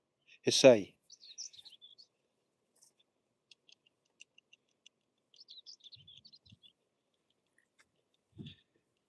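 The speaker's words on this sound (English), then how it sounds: "Miss Magpie says hello" A magpie gives a loud, harsh burst of calls at the start. Faint scattered chirps follow, with a brief low call near the end.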